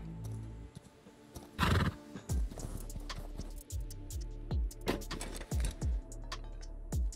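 In a video game, a horse whinnies loudly once, followed by a series of clip-clopping hoof thuds at an uneven pace over a low background hum.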